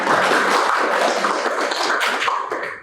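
An audience in a university lecture room applauds two students after their presentation, a dense burst of clapping that fills the room for about three seconds before thinning out slightly at the end, with no voices.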